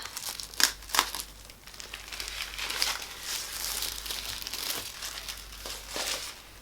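Packaging crinkles and rustles while a Chanel mini bag in red is unboxed, with a couple of louder crisp bursts early on and softer continuous crumpling close by, no voices.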